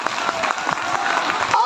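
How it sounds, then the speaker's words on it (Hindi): Schoolchildren applaud loudly during a Republic Day function at a school, a dense, steady wash of claps with crowd noise throughout. "उनके लिए जोरदार तालियों से स्वागत करें।"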